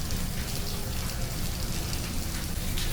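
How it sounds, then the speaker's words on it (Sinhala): Heavy rain on a stormy day makes a dense, steady hiss of falling water that stays loud and continuous with no pauses. "අද දවස පටන් ගත්තෙම මාර වැස්සක් එක්ක"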